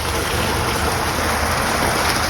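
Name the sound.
pond water flowing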